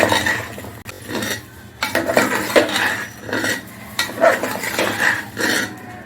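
A metal spoon scrapes and clanks against a pot while washed non-basmati rice is stirred together with spices, giving irregular loud bursts of clatter with short pauses between them.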